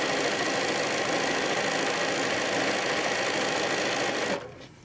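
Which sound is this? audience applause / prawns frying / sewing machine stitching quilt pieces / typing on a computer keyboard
sewing machine stitching quilt pieces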